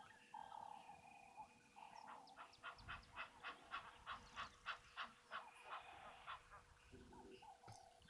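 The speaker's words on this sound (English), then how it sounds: "There's Egyptian geese calling now." Egyptian geese call in a rapid series of harsh, rhythmic honks, moderately distant, rising and falling over a quiet outdoor background at a waterhole.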